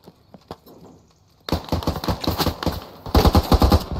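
Rapid automatic gunfire in the military shooter game Squad, a few scattered shots at first, then dense bursts of sharp cracks that grow louder and closer toward the end.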